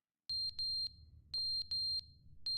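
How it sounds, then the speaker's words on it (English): A loud, high-pitched electronic beep from a fallen clock in a video game, sounding in short clustered bursts of two or three shrill tones separated by brief pauses, with a low background hum. "Oh, it's beeping."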